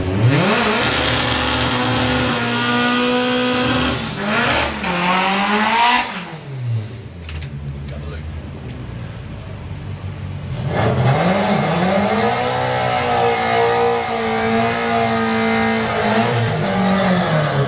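Doorslammer drag racing cars at the VP Racing Doorslammers 2021 meet roar loudly as engines rev hard, the note dipping briefly midway before another car screams off with a sustained, rising howl.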